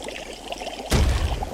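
Potion poured in the PlayStation 3 game Wonderbook: Book of Potions, a sudden close liquid gush that starts partway through and runs on steadily to the end.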